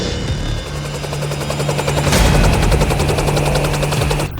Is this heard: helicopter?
yes